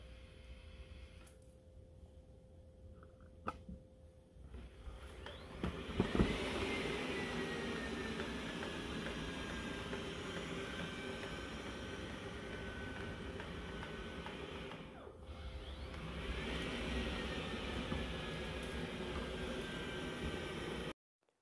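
A Narwal T10 robot vacuum drives across the floor while mapping a room, giving a steady motor whir and brush hum with a rising tonal whine, continuous and fairly close after a brief quieter start.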